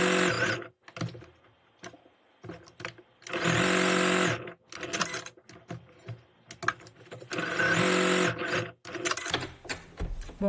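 A sewing machine stitches a quilt square for paper foundation piecing, running in several whirring bursts, some short and some sustained, with stops and small handling clicks between runs.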